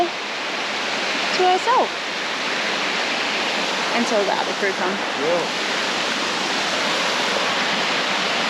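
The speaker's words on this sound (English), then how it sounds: "Beautiful waterfall" A waterfall in the Kimberley sends up a steady broadband rush of falling water, loud and continuous, with brief snatches of nearby voices talking over it.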